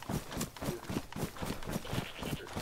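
Rhythmic hoof-like steps of a goat moving about in the video game DayZ, with repeated thudding footfalls close and fairly loud across the whole stretch.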